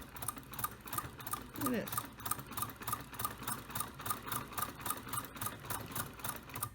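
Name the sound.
Singer 128 sewing machine being hand cranked, stitching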